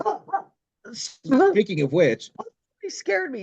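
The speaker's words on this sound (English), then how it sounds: "Sorry, that was our dog" A household dog barks and whimpers in short bursts close by, mixed in with and partly overlapped by people talking.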